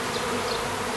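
A honeybee colony being moved out of a tree trunk hums in a dense, loud, continuous buzz, close by and without any voices.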